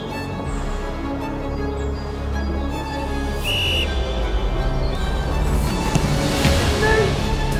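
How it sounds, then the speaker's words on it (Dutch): A referee-style whistle sounds a few times during an outdoor penalty-kick challenge against professional goalkeepers, short sharp blasts over steady wind and background noise. "We hebben een fluitje bij, om het echt te maken."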